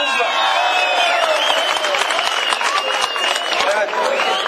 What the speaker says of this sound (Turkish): Evet, alkışlar